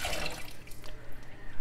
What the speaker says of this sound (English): You don't have to take the lid off, you can just pour the water out.